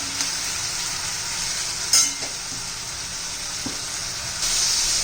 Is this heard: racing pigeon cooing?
no